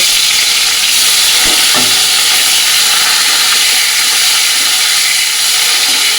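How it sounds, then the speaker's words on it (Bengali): Hilsa fish heads fry in hot mustard oil in a kadai, giving a steady, loud, close sizzle and hiss that fills the whole stretch, with a couple of brief clinks from stirring. "এবার মাছের মাথাগুলো আছে মাথাগুলো এবার ভেজে নেব"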